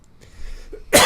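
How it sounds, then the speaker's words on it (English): A single short, sharp cough bursts out abruptly near the end after a moment of faint background sound. "As I stop coughing everywhere."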